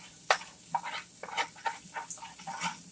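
Diced onions browning in a pan for mushroom soup give off a soft, uneven sizzle with small crackles and stirring scrapes, fairly quiet and close.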